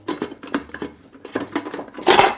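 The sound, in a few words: pressure cooker being brought over and set down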